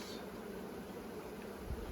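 Honey bees buzzing around a Buckfast queen in an open hive, a faint, steady low hum running evenly without a break for two seconds.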